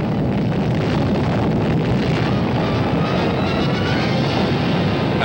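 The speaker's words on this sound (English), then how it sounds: "Teachers in Nevada prepare for an underground atomic explosion," A sustained, dense roar of an underground atomic test explosion in Nevada during Operation Teapot, rumbling loudly and evenly without a break, with no voices.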